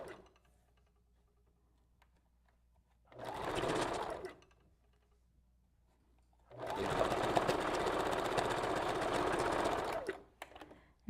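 A sewing machine back-stitches a track on a wavy human-hair wig, two bursts of loud, rapid needle clatter, a short one then a longer steady run, separated by near silence.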